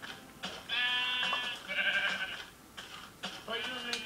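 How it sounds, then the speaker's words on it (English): Sheep in the video game Minecraft bleat in several loud, drawn-out, wavering calls, one after another with short gaps between them. "Sheep!"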